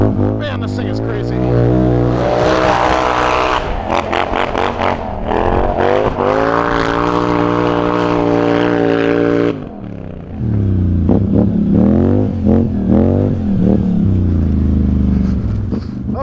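A Scrambler 1000 motorcycle engine revving and laboring as it climbs a snowy winter ditch, loud and close throughout with a brief dip near the middle, talk audible over it.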